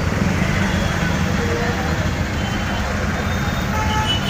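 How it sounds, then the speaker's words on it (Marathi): Travel buses and other vehicles idle and rumble in city traffic near a parking area, a low continuous engine drone with a faint beeping, while someone talks over it. "ट्रॅव्हलच्या गाड्या आहेत ना, त्यामुळं आवाज येतो, साऊंड येतो"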